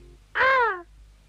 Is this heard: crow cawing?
yes